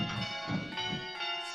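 Church bells peal in quick succession in a Virtual Belfry bell-ringing simulator, bright overlapping tones with a sustained ringing hum, with no talking.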